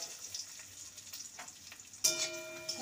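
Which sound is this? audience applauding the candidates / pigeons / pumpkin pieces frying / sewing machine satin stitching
pumpkin pieces frying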